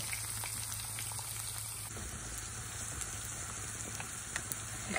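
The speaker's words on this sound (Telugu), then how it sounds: "అలాగే కొబ్బరి, ఇవన్నీ వేసి వేయించుకుందాం" Coconut and mango pickle ingredients fry in a pan over a medium flame, giving a steady, dense sizzle with soft crackles that runs unbroken and fairly close throughout, without any talking.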